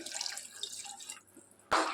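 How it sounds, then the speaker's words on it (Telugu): A glass of water is poured into mutton curry cooking in a pot, making a close, steady splashing pour that ends in drips and a sudden louder splash. "ఇక్కడ నేను 1 గ్లాస్ వాటర్ యాడ్ చేస్తున్నాను."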